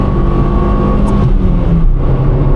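A cold Honda VTEC engine revs loudly toward redline, a steady strained drone held close and continuous with no pauses.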